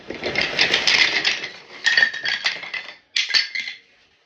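Small walnut wood wedges shaken and handled inside their package during an unboxing, three bursts of close, light clattering and knocking separated by short pauses.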